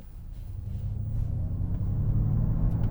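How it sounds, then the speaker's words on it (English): A Ford Mustang Mach-E electric car plays its optional artificial propulsion sound as a low, steady rumble that builds gradually in loudness, heard from inside the cabin with no talking. "We do have a propulsion sound available as an option there."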